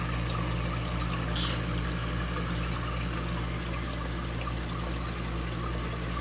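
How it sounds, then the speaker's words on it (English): Water from an aquarium waterfall pours in a steady, continuous trickle inside a home fish tank of mollies and loaches, soft and unbroken with a low hum beneath. "I like how this is running. You know, how the holes are working, the water's dropping down."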